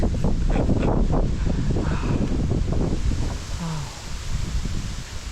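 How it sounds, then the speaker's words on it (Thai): Bamboo in a forest rustles in the wind as a dense, steady hiss and swish, loud and close, with gusty wind noise throughout. "เวลาได้ยินเสียงไผ่มันดูลมเนี่ยโอ้โห"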